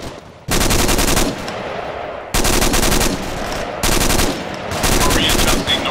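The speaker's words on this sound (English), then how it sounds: "Enemy fire north." Enemy machine-gun fire in the Arma 3 military game, three long loud sustained bursts separated by short pauses, close and dominant.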